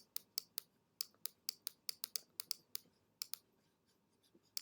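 A pen or pencil writes an answer by hand on a quadratic formula problem, with quick, faint scratchy taps and strokes in irregular bursts, close and quiet, with no voices.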